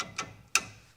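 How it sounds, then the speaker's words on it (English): A star-wheel adjuster on the rear brake of a 2005 Ford F-350 gives two faint, sharp metallic clicks, close by, with quiet room noise between them. "Okay, 6 clicks."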